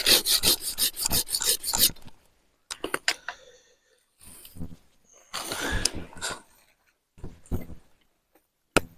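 A hand saw cuts a plum tree branch being prepared for grafting, with quick, rhythmic back-and-forth strokes at first, then scattered scraping and trimming sounds separated by pauses.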